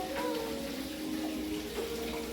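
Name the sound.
water running while washing a fridge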